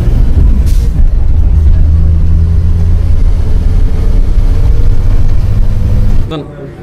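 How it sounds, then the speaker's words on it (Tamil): Road traffic on a road blocked after an accident makes a loud, continuous engine and road rumble heard from close by, then drops off abruptly near the end. Voices are heard over it. "இந்த ஆக்சிடென்ட்டுக்காக ரோடை பிளாக் பண்ணி விட்டாங்க. ஃபுல்லாக டிராஃபிக்கு."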